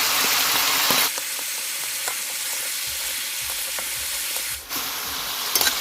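Chicken pieces frying in a pan for a curry as ginger-garlic paste goes in, a steady loud sizzle with light stirring and scraping, close up and without speech.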